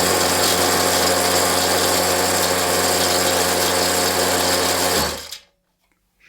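A rock tumbler cleaning brass runs with a loud, dense, steady rattling clatter, then stops abruptly, leaving near silence.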